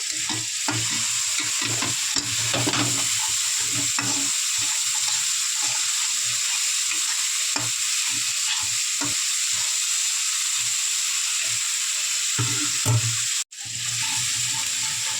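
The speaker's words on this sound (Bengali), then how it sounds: "ওইটাও ভালো করে করে নেবো, নেড়ে চেড়ে নেবো একসাথে" Masala and blended tomato stirred and fried in a pan for a potol-and-prawn curry: steady close sizzling with repeated scraping stirs throughout, a brief drop near the end, no talking.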